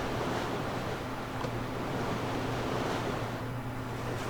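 A boat in Black Desert Online running steadily across open sea, with a continuous rushing wash of waves and wind noise and no voices.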